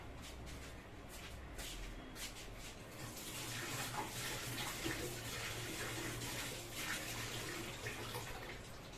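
Running water splashes steadily as a roti grill mesh is rinsed and scrubbed clean, a continuous close spray with shuffling and handling noises mixed in.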